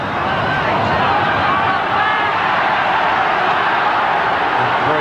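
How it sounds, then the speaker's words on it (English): A stadium crowd at a 1989 rugby league match between the Rabbitohs and the Broncos, Brisbane supporters roaring at the referee in a steady, loud wall of massed voices with scattered shouts and whoops across the whole stretch. "Pro-Brisbane crowd urging McCallum to penalise South for being inside the 5 metres"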